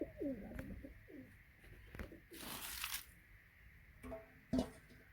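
Pigeons in a loft give rolling, repeated coos close by, followed by a brief splashing burst of water being poured and a few sharp knocks.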